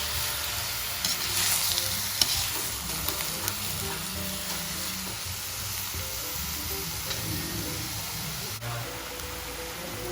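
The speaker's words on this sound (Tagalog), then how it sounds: "hahaluin lang natin until malisa yung ating chicken" Native chicken for ginataang manok is stirred and sautéed in a pan, with a dense, continuous sizzle and hiss and intermittent scraping of a utensil across the pan, close and without voices.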